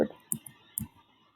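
A computer keyboard gives a few sparse, crisp key clicks, about three separate taps in just over a second, close and quiet with no talking.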